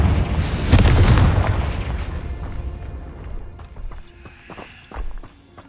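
In Hogwarts Legacy, a Confringo blasting spell detonates in a single deep, booming explosion, followed by a fading rumble and scattered lighter clatter and thuds.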